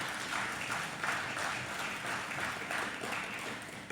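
An audience at a book launch applauds with steady, dense clapping throughout, moderately distant and fairly quiet, with no speech over it.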